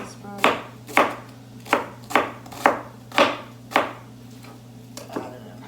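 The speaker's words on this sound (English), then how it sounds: "It's easy to cut and chop. Same thing with the Brussels sprout." A knife chops Brussels sprouts for a beef stir fry, about seven sharp, evenly spaced cuts landing close and distinct over a steady low background hum.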